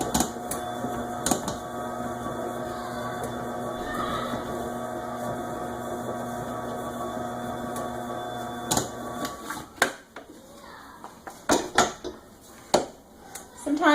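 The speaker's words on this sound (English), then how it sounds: "What I'm looking for is the paddle to break up the butter into pea-sized pieces." A stand mixer's paddle churns butter into pea-sized pieces for pie crust, a steady mechanical whir with harmonic hum and rattling clatter, then the motor stops and scattered bumps and clunks follow near the bowl.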